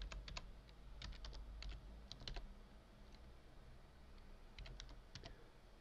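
Fingers type on a computer keyboard while Arduino code is entered, giving clusters of quick clicky keystrokes in short bursts with pauses between, close and fairly quiet, with no talking.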